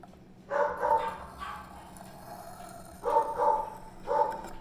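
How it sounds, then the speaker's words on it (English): Dogs bark in a home during freehand knife sharpening, in three separate bursts of several sharp, fairly close barks each, with quieter room sound between them. "I'm so sorry about my roommate's dogs barking excessively."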